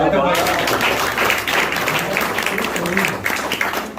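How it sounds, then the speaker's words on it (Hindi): An audience at a mushaira, an Urdu poetry recital, breaks into a sustained round of clapping with crowd murmur and voices mixed in. "तालियां होनी चाहिए बस।"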